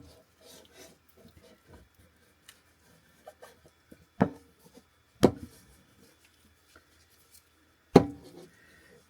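Bagel dough being scraped out of a mixing bowl inside an RV kitchen, with a few soft rasping scrapes and three sharper, louder scraping strokes spaced a second or so apart over quiet background.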